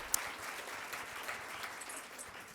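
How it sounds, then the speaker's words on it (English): Group applause during a volunteer training session, a dense, even patter of many people clapping that carries on without a break, with one sharp louder clap near the start. "have everybody give you a big round of applause for that section."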